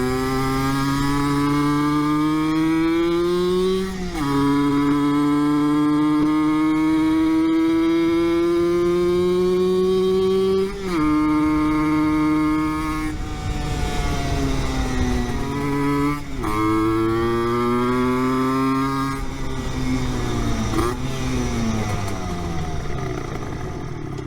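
Yamaha TZM50R two-stroke motorcycle on a test ride, its high buzzing exhaust climbing through the gears in repeated rising sweeps, dropping briefly at each shift, loud and close throughout.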